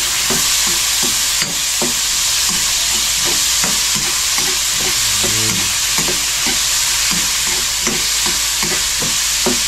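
Chopped tomatoes fry and sizzle loudly in a hot pan with a steady hiss while a utensil stirs them in repeated regular scraping strokes, all close by with no talk.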